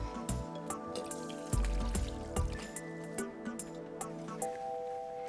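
Cooked food being drained in a kitchen, with water dripping and trickling in a steady patter of small drops alongside faint clinks, close and moderately loud, with no talking.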